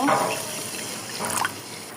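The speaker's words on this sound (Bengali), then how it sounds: "কষানো হয়ে গেছে তরকারি মশলা, এখন পানি দিয়ে পানিটা ফুটিয়ে নেব।" Water is poured into a pan of cooked-down masala for a mustard rui fish curry, a brief liquid splash and trickle over a soft background hiss.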